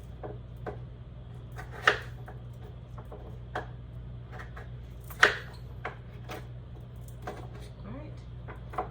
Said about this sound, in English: I was just cutting these pieces into smaller squares, so they'll all be roughly about the same